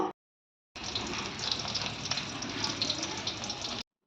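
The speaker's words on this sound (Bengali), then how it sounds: "আর বাদবাকি পটলগুলো এই একই রকমভাবে ভেজে নেব" Sliced pointed gourd (potol) frying in oil in a pan gives a steady, bright hiss that starts abruptly after a short silence and holds evenly before cutting off.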